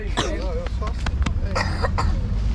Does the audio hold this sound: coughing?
yes